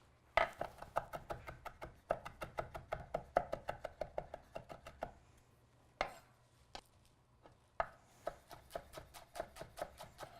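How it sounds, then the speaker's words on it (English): A knife chops a mix of fresh marjoram, rosemary, thyme and sage on a board, with fast, steady close knocks that come in long runs and stop twice for short pauses. "We're gonna chop all these together."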